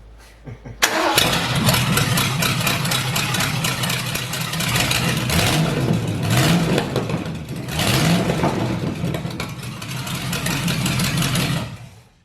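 A big Ford 351 V8 engine cranks briefly, catches and roars to life, then settles into a loud, rumbling idle with a few throttle blips, close by.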